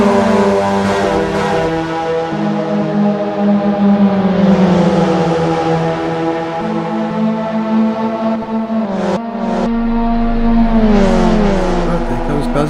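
Mazda MX5 Cup race cars lapping Lime Rock Park in a racing sim, engines droning loud and steady with rising and falling pitch as they shift and accelerate, several cars close together under continuous racing commentary.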